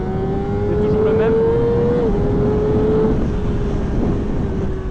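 A Honda CBR600RR sport motorcycle's inline engine holds a steady high-pitched whine under a rider's talk, its note briefly rising and then settling back while the bike runs along at a constant, loud, close level.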